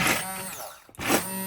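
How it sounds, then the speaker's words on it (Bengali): A hand blender whirs through a dried fish bhorta with the fish bones still in, a steady close motor drone that briefly drops away near the middle and then comes back at full strength. "আমি হ্যান্ড ব্লেন্ড দিয়ে এটা ভর্তাটা ব্লেন্ড করে ফেলতেছি।"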